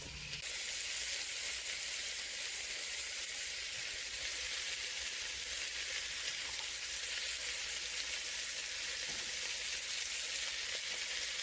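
Food browning in a frying pan, a loud, steady, close sizzle that holds evenly throughout with no talk.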